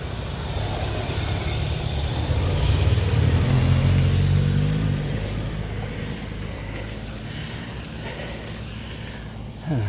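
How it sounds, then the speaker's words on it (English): Cars and motorcycles passing on a Lake District road in Eskdale, a loud rumbling approach that swells and fades over several seconds amid steady wind noise, with no talking. "those 2 cars and 2 motorcycles passed"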